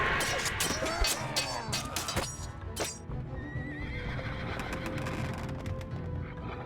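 Horse neighing and whinnying in the real-time strategy game Battle Realms, a loud whinny up front followed by scattered hoof clops and game effects in the background, then a steadier ambient bed.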